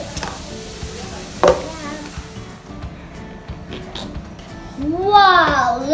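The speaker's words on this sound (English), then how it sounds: "Now we'll put it in the mixer for 1 more minute." An electric mixer whirs steadily through cake batter for about two and a half seconds, then cuts out, leaving someone talking with kitchen clatter.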